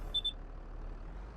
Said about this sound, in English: we need to put some fuel in this, because this has started beeping at me